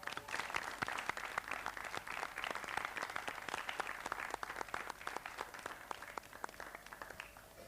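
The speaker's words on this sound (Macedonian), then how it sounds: "Јас би побарала уште еден аплауз во студиото." A studio audience applauds at a televised folk ensemble appearance, dense sustained clapping from many hands, fairly faint, fading slightly toward the end.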